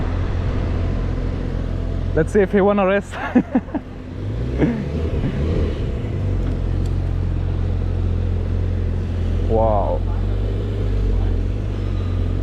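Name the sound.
car engine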